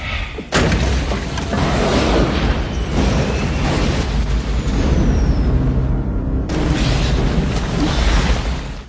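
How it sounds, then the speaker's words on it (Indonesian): Bombs exploding in an underground tunnel: a sharp blast opens into a long, loud rumbling roar, then a second heavy impact strikes near the end, deep and booming throughout. "Satu persatu bom dijatuhkan dan mereka berdua hampir mati karena serangan tersebut"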